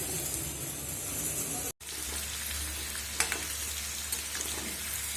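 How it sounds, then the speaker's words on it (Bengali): Chicken pieces for chilli chicken fry in a pan with a loud, steady, close sizzle throughout, broken by one brief dropout, with faint stirring clicks and a little background voice. "দেখো আমাদের চিলি চিকেনের যে মাংস ভাজা হচ্ছে"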